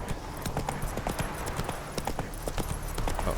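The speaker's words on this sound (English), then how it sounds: "Right, get off the horse, Roach." Horse hooves clip-clopping in the video game The Witcher 3: a rapid, steady run of close hoofbeats over a constant ambient bed, continuing evenly for several seconds.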